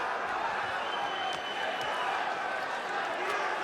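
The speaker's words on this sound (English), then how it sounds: "Crowd booing now." A cage-fight crowd roars and boos at the EAGLES VIII bout between Yurii Protsenko and Viorel Lipa, a dense, loud and steady wall of noise filling the whole arena without letup.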